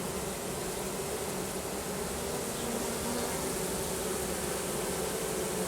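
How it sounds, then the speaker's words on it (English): Honeybees fan at the hive entrance while a swarm is introduced, a dense, steady buzzing hum that fills the whole stretch without letting up. "Just sitting there fanning their pheromone down, telling the other bees, come on up"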